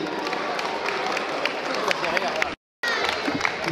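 Applause for Olympique de Marseille at an U13 futsal tournament closing ceremony in France, dense indoor crowd clapping under a speaking announcer, briefly cut off before resuming.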